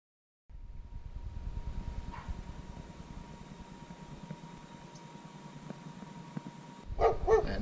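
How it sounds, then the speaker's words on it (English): Dogs bark in the streets of Los Algodones, Mexico, near a monument at the town's northern edge. A few faint, distant barks and yips sound over a steady low hum of fan or traffic noise, with louder sharp sounds near the end. "pardon the dogs barking"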